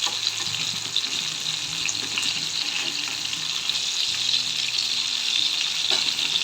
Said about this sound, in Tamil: இப்போ ஒரு பேனில் ஆயில் விட்டுட்டு அதில் வந்து ஃபிஷ் வந்து நம்ம ஃப்ரை பண்ணி எடுத்துக்கலாம்